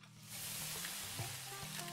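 Food sizzling and frying in a pan in the cooking game Venba, a steady close hiss with a few soft stirring knocks, no talking.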